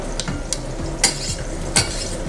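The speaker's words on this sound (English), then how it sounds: "now I can hear the soup really cooking" Leek and potato soup cooking in a pot, with a soft steady bubbling simmer, low rumble underneath and a few brief scrapes or taps of a utensil, close by and with no voices.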